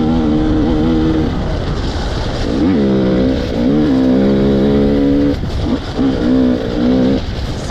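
An enduro motorcycle rides on a beach over loose gravel and large stones. The engine stays loud and close throughout, rising and falling through repeated revs and gear changes, with wind buffeting underneath and no talk.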